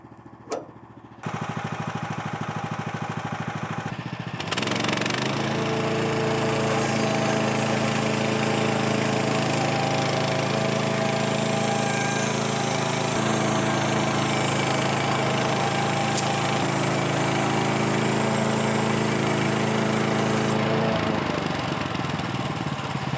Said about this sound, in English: throw it up on the sawmill real quick